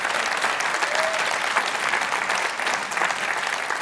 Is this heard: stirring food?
no